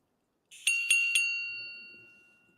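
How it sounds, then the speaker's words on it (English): Countdown timer on a luxury watch chiming three quick bright metallic tones that ring on and fade slowly into silence, close and clear. "every minute with this countdown timer, you actually get that chime as well"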